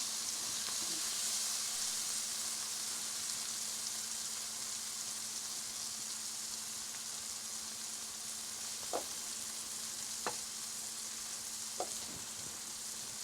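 Onions fry in a pan with ginger garlic paste, giving a soft, even sizzle and hiss that runs the whole time, with a low hum underneath and a few faint clicks near the end.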